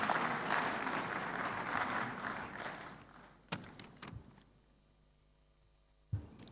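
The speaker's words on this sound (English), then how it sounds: "Let's welcome him with a round of applause." A conference room audience at an African business summit applauds to welcome a speaker, a broad wash of clapping for several seconds that dies out, followed by a few isolated thumps and knocks in near silence.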